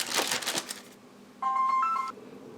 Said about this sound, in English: And of course, I get a phone call.